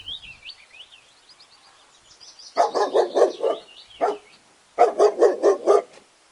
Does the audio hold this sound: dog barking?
yes